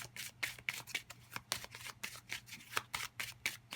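Tarot and playing cards are shuffled close up in quick, rhythmic riffles, about a dozen soft papery flutters in a row.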